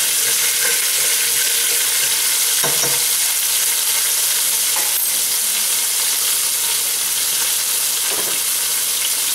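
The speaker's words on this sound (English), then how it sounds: "I have my oil popping. First thing I'm going to do is drop a nice healthy portion of garlic." Garlic sizzling loudly in hot popping oil in a pan, a steady dense crackle throughout with a few brief scrapes and clinks, no voices.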